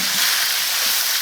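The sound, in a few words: stir-frying onion and scallion with chopped chili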